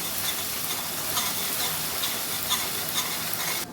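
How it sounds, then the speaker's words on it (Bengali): Spice paste frying in oil with asafoetida and dried red chillies in a pan for vegetarian aloo dum, a steady close sizzle with scraping stirs throughout. "দিয়ে মশলা ভালো করে কষিয়ে নেব।"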